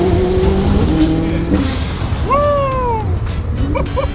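A hypercar engine revs hard and loud nearby, its pitch sweeping up and falling away as the car accelerates, with brief tire squeal.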